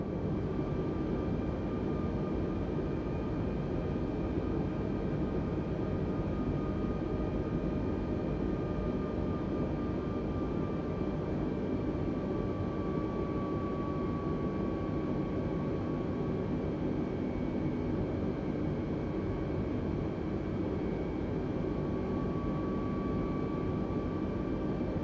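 Airbus A320 sitting on runway 16 in Microsoft Flight Simulator 2020, a steady, loud jet engine drone with a faint whine drifting slightly in pitch, continuous and unbroken with no talking.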